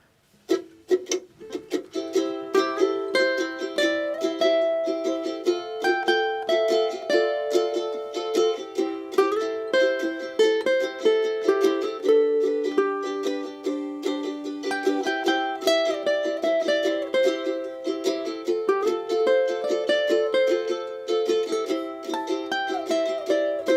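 A ukulele plays a lively melodic solo of quick notes over a strummed chordal backing, steady and fairly close, with no voices.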